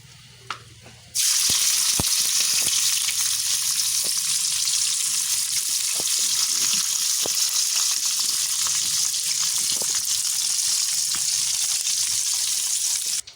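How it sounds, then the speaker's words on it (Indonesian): Anchovies (ikan teri) frying in hot oil in a pan, a loud, steady crackling sizzle that bursts in suddenly and continues unbroken, with occasional small pops and clinks, no talking. "Kita lanjut mau goreng ikan teri."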